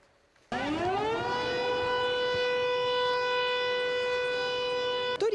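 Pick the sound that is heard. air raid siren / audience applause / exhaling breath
air raid siren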